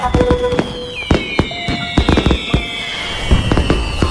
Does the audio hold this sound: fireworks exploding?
yes